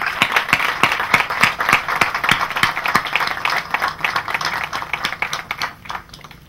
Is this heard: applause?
yes